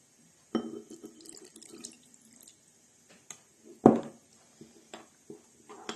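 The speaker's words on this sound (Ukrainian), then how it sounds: "додаємо сюди водички, щоб таке воно було трішки рідше" Water is poured into a sour cream sauce for baked zucchini with mince, giving faint, close splashes and trickles in short, uneven bursts.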